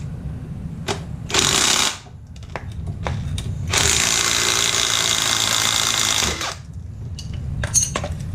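Power tool bursts on a Hyundai Genesis R-Spec sedan while the strut top nut is removed during a lowering spring install, two rattling runs separated by clicks and clanks, close and loud with no talk.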